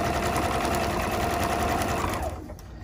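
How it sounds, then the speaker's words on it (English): A sewing machine runs steadily, stitching fabric scraps onto strips of calculator paper, a loud close mechanical whirr that winds down and stops near the end. "in the sewing machine using up some scraps"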